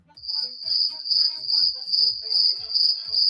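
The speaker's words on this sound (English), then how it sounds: "crickets," Crickets chirp in a steady high-pitched trill, loud and continuous throughout, with rhythmic pulses and no voices.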